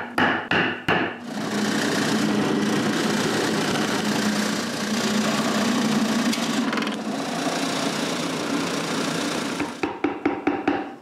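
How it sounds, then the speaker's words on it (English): A drill press bores holes in wood for a cremation urn: a few sharp knocks, then a long steady motor whir with cutting noise, ending in a quick series of taps as the work is cleared. "I mark where to drill the holes, and I'm back at the drill press"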